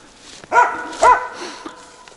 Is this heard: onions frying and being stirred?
no